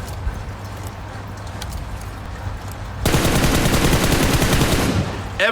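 Weapon firing in PUBG while showing recoil, low game ambience that gives way halfway through to a loud continuous burst of rapid automatic fire lasting several seconds.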